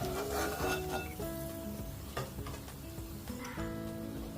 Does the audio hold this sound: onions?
yes